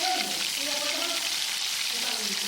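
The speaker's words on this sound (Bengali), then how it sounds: "দেখো আদাটা দিয়ে দিলাম আদাটাকেও ভালোভাবে ভেজে নিলাম" Ginger paste fries in a pan after onion paste, giving a continuous dense sizzle that holds steady for the whole short stretch, close and fairly loud, with no voice over it.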